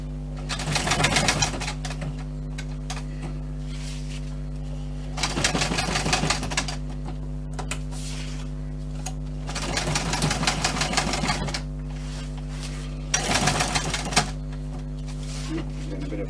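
A domestic sewing machine stitching a bushcraft water bottle pouch runs in three or four loud rattling bursts over a constant low motor hum, with quiet gaps between the runs.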